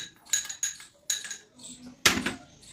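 Three to four ice cubes dropped into a mixer jar for a chikoo chocolate milkshake, sharp hard clinks and clatters in a few separate bursts, close and clear with no talking.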